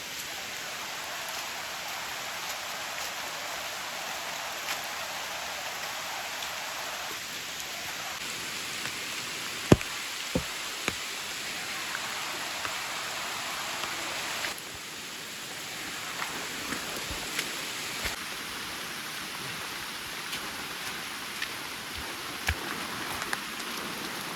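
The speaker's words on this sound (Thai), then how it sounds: "ฝนตกเนี่ย เยอะเหมือนกันนะ" Heavy rain pours down in a deep border forest, a dense continuous hiss of rainfall on foliage with occasional sharper drops and ticks, steady throughout and without talk.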